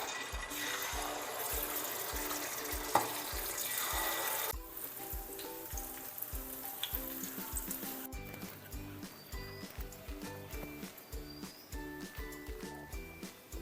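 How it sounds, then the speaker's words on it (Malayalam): Unniyappam batter made from ground rice, jaggery and banana is ladled into hot oil, giving a bright, steady sizzling hiss that fades and thins out, set against a rhythmic background beat. "ഉണ്ണിയപ്പത്തിൻ്റെ മാവൊക്കെ കോരൊഴിച്ച് നമുക്ക് ഉണ്ണിയപ്പം ഉണ്ടാക്കിയെടുക്കാം"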